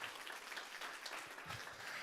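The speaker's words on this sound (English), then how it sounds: "Y'all can clap." Steady applause from an audience at a drag king revue in a library, dense clapping held at an even level throughout without any voices.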